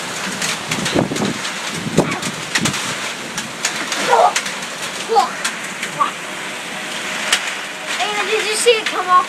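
Heavy summer storm rain pours and splashes off a roof in a small town, a loud, continuous rushing wash with gusts of wind noise while people talk briefly over it.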